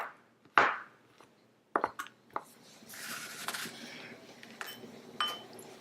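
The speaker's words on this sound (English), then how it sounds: "I'm not chopping them up into too small bits" A knife chops through macadamia nuts on a board in uneven sharp knocks and crunchy scrapes, close and fairly quiet, with no talking.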